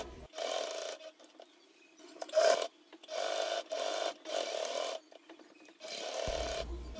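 A domestic sewing machine stitches fabric for a cloth bag, running in several short, even bursts of whirring with quiet pauses between them, heard close and alone.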